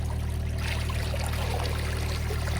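Steady rushing water pouring and flowing out from under concrete nearby, continuous and fairly loud with a low hum beneath, no voices.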